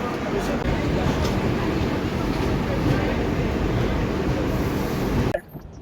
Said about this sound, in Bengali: একদম ডট ছেড়ে দিয়েছে ট্রেন